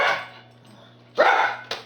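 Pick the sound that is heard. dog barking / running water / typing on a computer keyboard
dog barking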